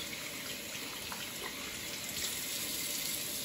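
Tap water running continuously over hands being rinsed at a sink, a steady faint splashing hiss throughout with no talking.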